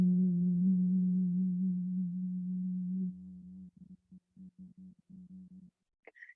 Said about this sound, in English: this pranayama is called the bee's breath, Bharami breath. And it sounds, it's very, very vibrational.